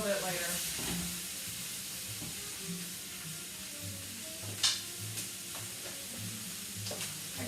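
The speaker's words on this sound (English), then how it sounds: "As the mushrooms cook, of course they shrink." Wild mushrooms crowd a full pan, sizzling and hissing softly as they fry, with occasional stirring scrapes and clicks over a low, steady background.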